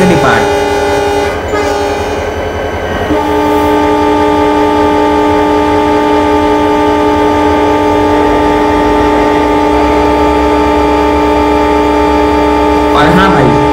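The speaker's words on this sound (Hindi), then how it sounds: "और हाँ भाई आज के इस वीडियो में हमारे WDG 4D लोकोमोटिव का आप लोगों को हॉर्न कैसा लग रहा है" A WDG 4D diesel freight locomotive horn from Trainz Simulator 12 sounds loud and close. Several sustained blasts hold steady tones across the clip, over a constant engine rumble, and a short sharp toot comes at the end.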